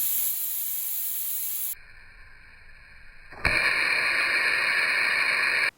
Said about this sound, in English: The first video is the system cleaning dried-on mud off the lenses with the compressed air.